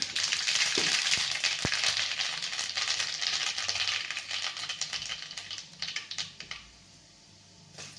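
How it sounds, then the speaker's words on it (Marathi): Mustard seeds sizzle and crackle in hot oil as masoor usal is started, a steady dense frying hiss with sharp popping ticks throughout that thins out and quietens near the end. "इकडे तेल गरम झालेलं आहे आता टाकून घेणार आहे आपण मोहरी थोडीशी"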